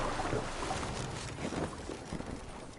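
A Viking longship sailing on water in Assassin's Creed Valhalla, with steady faint rushing water and wind-like wash against the hull, soft and continuous with no talk.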